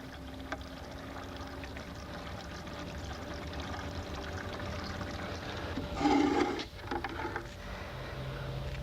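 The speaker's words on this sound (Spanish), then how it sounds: "se deja salir toda la solución nutritiva excedente y se devuelve a nuestro tanque original" Excess nutrient solution drains from a hydroponic bed and flows back into its tank: a steady watery rush with a louder gurgling surge near the end, no voices over it.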